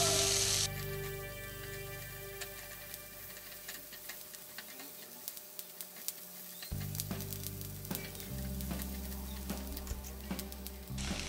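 Onions fry in a pan for a dhaba-style aloo gobi, giving a steady soft sizzle with scattered crackles and ticks, moderately close, with no talking.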